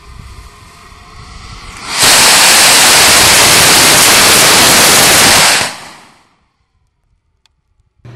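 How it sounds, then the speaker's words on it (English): A modified K450 sugar and potassium nitrate rocket motor with a PVC blast tube roars through a loud, steady hiss for about three and a half seconds during a static test firing, then cuts off into near silence. "This is the modified K450 engine that's going to be static tested."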